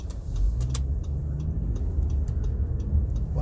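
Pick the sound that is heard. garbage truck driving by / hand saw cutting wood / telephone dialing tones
garbage truck driving by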